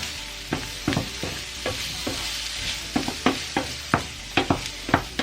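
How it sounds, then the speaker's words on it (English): Mince and vegetables frying in a pan for cottage pie, stirred with a dozen or so sharp scraping strokes in an irregular rhythm over a steady low sizzle, close and fairly loud with no voices. "So I'm just going to give that a quick stir."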